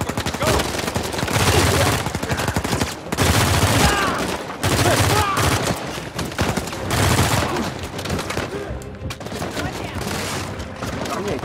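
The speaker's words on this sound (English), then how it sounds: "Hey, asshole, stop shooting." Sustained gunfire in the action game Uncharted 4, with dense rapid automatic bursts in several long volleys separated by brief pauses, loud and close, while someone speaks in between.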